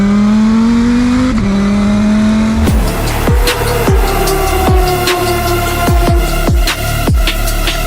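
A 2000-horsepower Dodge Viper engine revs hard and loud, climbing in pitch before a string of sharp throttle blips and crackling pops, close by with no talking.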